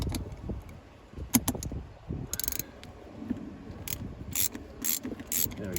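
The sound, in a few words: ratchet socket wrench loosening rusted bolt on BMW E93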